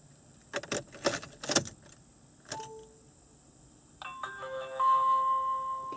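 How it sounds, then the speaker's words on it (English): Car keys jingle in several quick metallic bursts as they are grabbed, followed by electronic chimes and tones from a car, with no talking. "keys, grab my keys"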